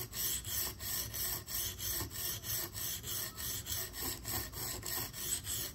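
A Spyderco Police 4 knife with a K390 steel blade is drawn across a wet sharpening stone in a regular back-and-forth rhythm, about a dozen quiet, close rasping strokes with no speech.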